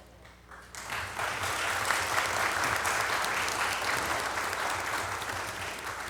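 Council meeting audience applauding a retiring Board of Health member, a dense sustained burst of clapping from many hands that swells quickly and holds steady, filling the room.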